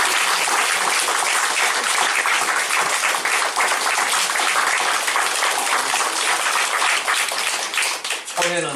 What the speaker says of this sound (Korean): 예, 박수해 주시기 바랍니다.